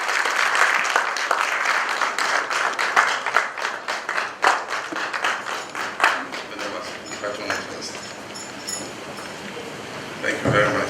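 Sustained applause from an audience at a Ghanaian state courtesy visit by the Asantehene to the President, steady and dense clapping with voices mixed in, fading near the end.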